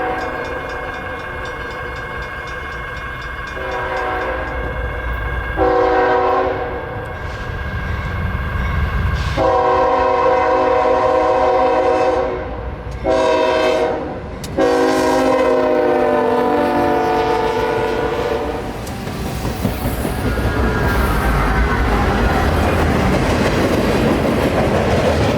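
A CSX freight train on the historic W&A railroad rolls past with maintenance-of-way equipment at the head of the consist, horn blasting in several long, loud soundings over steady wheel and rail noise that continues as the cars pass close by.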